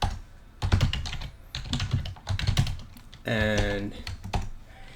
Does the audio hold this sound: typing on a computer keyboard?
yes